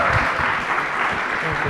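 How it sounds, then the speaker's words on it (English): Audience applause at a youth summit, a steady, dense wash of many hands clapping throughout, with faint voices mixed in beneath. "A round of applause."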